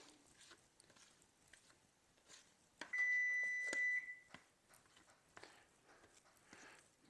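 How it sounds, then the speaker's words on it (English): A single electronic oven preheat beep sounds clearly for about a second, surrounded by quiet kitchen clatter. "Heard that beep? That was my oven that I already had preheating to 375."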